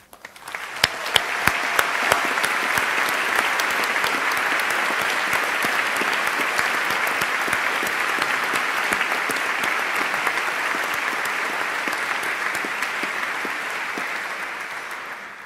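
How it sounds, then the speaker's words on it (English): A large audience at a university winter graduation ceremony in Edinburgh claps in long, sustained applause that swells quickly and holds steady before easing off at the end. "I ask the graduates and their supporters to join me in applauding my colleagues."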